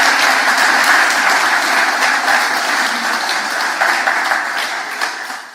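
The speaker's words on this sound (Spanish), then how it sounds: "mandemos un aplauso a nuestra gente en América Latina" A church congregation applauds during a revival sermon, producing a dense, sustained wash of clapping that holds steady and loud for several seconds before easing slightly at the end.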